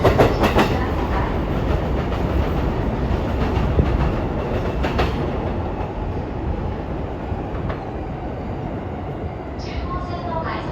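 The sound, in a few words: commuter train at Tokyo Station platform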